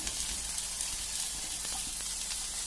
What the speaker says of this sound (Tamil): பாவக்காய் நல்லா எண்ணெய் நல்லா வதங்கி வேகட்டும்.